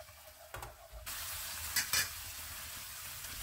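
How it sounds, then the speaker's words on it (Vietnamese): Coconut milk hitting a hot pan: a soft clunk, then a sudden rush of steady sizzling that holds to the end, with a brief louder crackle partway through. "Bắt lại cái chảo lên bếp. Bỏ cái nước dừa của mình vào."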